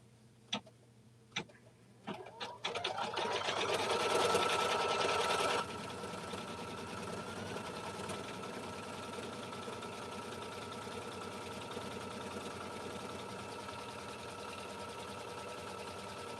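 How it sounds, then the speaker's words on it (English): A sewing machine stitches an outline on a quilt piece, starting with a few clicks and then settling into a continuous, fast, steady mechanical hum at moderate volume. "we just need to stitch an outline for this piece"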